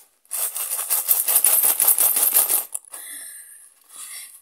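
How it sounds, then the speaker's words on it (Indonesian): A pile of metal coins scooped and handled by hand, giving a busy jingling clatter for about two and a half seconds before it drops to a faint rustle. "aku cuma mau ngambil uang koin"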